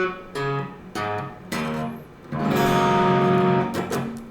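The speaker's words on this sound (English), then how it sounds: "tune all your strings half step down" Slow guitar notes and chords ring out one after another with all strings tuned a half step down, ending in a longer sustained strum.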